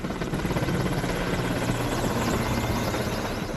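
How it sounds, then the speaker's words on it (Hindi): An Indian Air Force Mi-17 helicopter passes over a hospital in Kolkata, its steady, loud rotor thump and engine roar filling the air continuously with no voices. "वायुसेना के हेलीकॉप्टर ने कुछ इस अंदाज में सलामी पेश की।"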